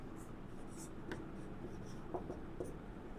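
Pen scratching on paper as a maths solution is written out by hand, a soft continuous scratch with a few small taps, quiet and close.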